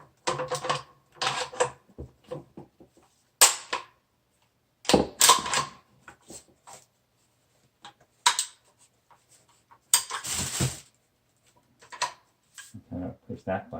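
The bolt of a Browning AB3 .243 hunting rifle being worked, heard as scattered metallic clacks and sliding clicks in bursts with silent pauses between them, close up, with a voice talking over parts of it.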